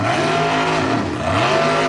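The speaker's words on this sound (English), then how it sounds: "All 4 wheels scrabbling for grip as the mighty V8 engine does its stuff." The Dragon, a V8 hill-climb race car on bigger tyres, has all four wheels scrabbling for grip while its engine roars and its pitch sweeps up and down in loud, close surges.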